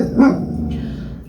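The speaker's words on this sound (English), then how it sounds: "Sorry about the barking." A single sharp dog bark close by, followed by a low growling rumble that trails off.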